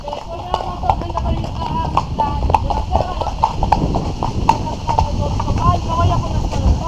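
Horses' hooves clip-clop steadily on a hard surface, close by, with irregular knocking steps and faint background activity throughout, during a horseback trail ride.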